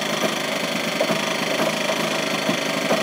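An old engine with original paint runs steadily close by, a continuous mechanical drone with a regular light knocking rhythm and no talk.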